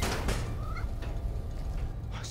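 A cat in Spider-Man: Miles Morales gives a short, moderately faint meow, one rising-and-falling cry set against steady low game ambience and scattered background noise.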